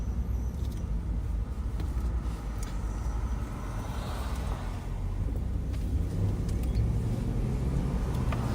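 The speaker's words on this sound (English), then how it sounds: "Somebody got his catalytic converter. Oh yeah, with the loud muffler." A car with a loud muffler after its catalytic converter was stolen rumbles steadily nearby, a deep continuous drone that swells slightly toward the end, with no talking.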